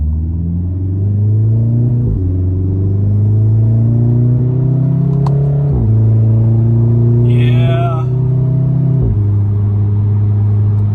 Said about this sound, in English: One thing I love about this exhaust system is that if it's in sport, it really is loud